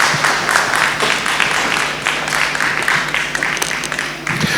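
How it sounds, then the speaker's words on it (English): A conference audience at the Nigerian Diaspora Investment Summit claps for a presenter after her talk, a thick, sustained wash of applause holding steady throughout and easing slightly near the end. "can you give her a round of applause"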